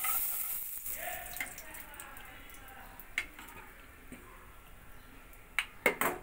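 Black cumin (nigella) seeds sizzle in hot oil for a Bengali matar dal with winter vegetables, a soft steady fry hiss with a few sharp ladle clinks and taps near the end.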